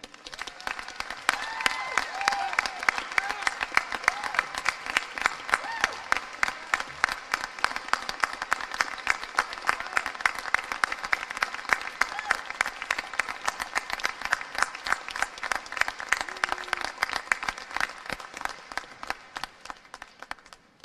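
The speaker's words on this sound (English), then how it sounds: "A moment of applause for Dean Hood" Sustained audience applause at a spring graduate commencement ceremony, many hands clapping steadily in a large hall for about twenty seconds before tapering off at the end.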